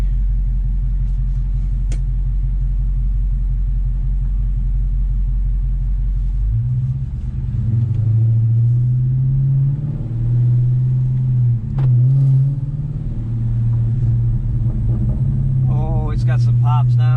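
A 2018 Dodge Charger Scat Pack fitted with MMX catless mid pipes rumbles loud and deep while driving, its engine note swelling and dipping with throttle, with a few crackling pops near the end and talk over it.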